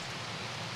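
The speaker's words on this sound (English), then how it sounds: "You can hear my rain on the stream?" Rain falls as a steady, even hiss picked up through a streaming microphone, a dense close patter with no breaks.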